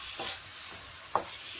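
Eggplant cooking in a pan sizzles quietly and steadily while a utensil stirs it in a couple of soft scraping strokes, one of them ending in a faint clink.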